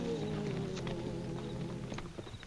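Faint hoof clops of a tired horse stumbling often, sounding in an uneven walking rhythm over a low background hum, quiet and somewhat distant.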